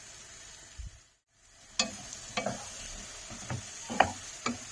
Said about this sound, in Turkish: Patlıcanlar da kavrulduktan sonra ek suyu veyahut da suyu ekleyip pişmeye bırakıyorum.